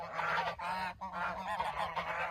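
Geese honking loudly and close by, in a rapid series of harsh, nasal calls that overlap in bursts with brief pauses between them; no one speaks.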